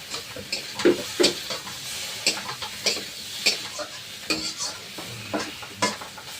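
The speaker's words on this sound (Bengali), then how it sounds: "তরকারিটা কষা করা হয়ে গিয়েছে এবার জল ঢেলে দেবো" Fried curry sizzling in a pan as water is poured in, with steady crackling broken by repeated sharp stirring scrapes and clicks at an uneven rhythm, close and fairly loud.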